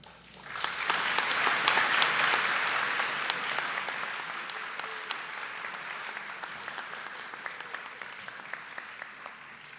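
Crowd at a college opening convocation breaks into applause that swells within a second, peaks, then slowly tapers while individual claps stay distinct, many hands clapping in a large hall.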